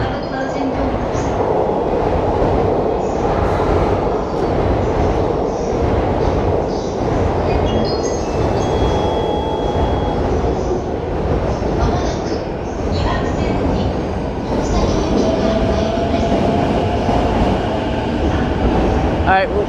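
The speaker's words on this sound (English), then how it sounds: "maybe the train is coming right now" Subway train arriving at a station in Tokyo between Shibuya and Harajuku, a loud sustained rumble of rolling wheels and rail noise with faint squeals, continuous and close, with some voices underneath.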